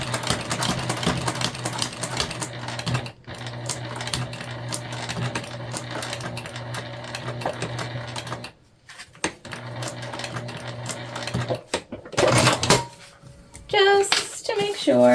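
A sewing machine runs fast and close, stitching over a seam on a fabric lunch bag; the rapid mechanical whir holds steady, drops out briefly twice, then ends with a few lighter clicks and handling noises.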